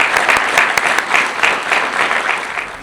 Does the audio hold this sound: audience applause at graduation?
yes